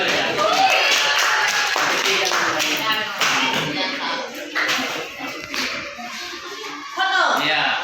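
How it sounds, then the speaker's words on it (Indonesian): Applause for a presenting group in a classroom, steady hand clapping of moderate loudness that rises and falls, with people talking over it throughout. "Ya, tepuk tangan untuk kelompok ini."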